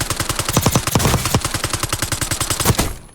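Suppressed SMG fire in Black Ops 6: rapid, evenly spaced muffled shots in continuous bursts, close and punchy, ending abruptly near the close.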